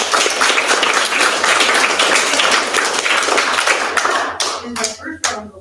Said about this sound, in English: This is the first round of applause